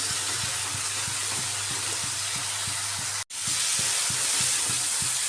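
Turmeric, cumin, coriander and red chilli powders fry in hot oil with chopped ginger, a steady close sizzling hiss with a faint rhythmic ticking beneath, broken by one brief instant of silence before resuming.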